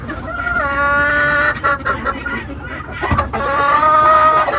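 Lakenvelder chickens and roosters cluck loudly and close by, with overlapping calls and a drawn-out crow-like call near the start.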